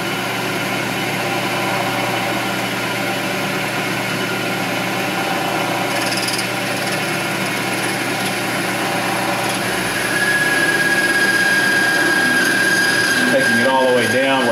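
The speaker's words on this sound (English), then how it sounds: "The tool I'm using is a miniature boring bar." A lathe runs with a steady mechanical hum while a miniature boring bar cuts inside a drilled fountain pen part, scraping and whining, a thin squeal emerging toward the end.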